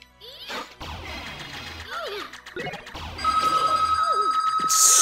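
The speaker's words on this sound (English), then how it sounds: "Stupid phone?" An electronic telephone ringtone in a room, starting partway through as a steady repeating high tone with a rising pulse, over game sounds and clatter.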